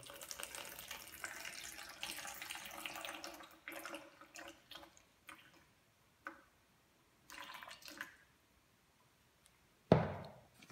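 Water poured into a container to be weighed out at 100 grams for a sourdough starter, a steady stream that trickles in short bursts, then a sharp splash or clunk at the end, close with no talking.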